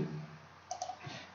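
A couple of quick computer mouse clicks on a software save button, small and close, with a faint trailing rustle and no talking.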